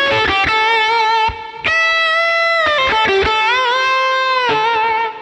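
Electric guitar playing a Mixolydian lick on the first two strings, bright sustained notes with bends and slides in a steady flowing phrase, close and loud with a short gap in the middle, no talking.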